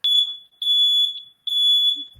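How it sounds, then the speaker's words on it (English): A home fire alarm sounds loud, piercing electronic beeps, repeating three times in a steady rhythm with short gaps between them. "My fire alarm's going off."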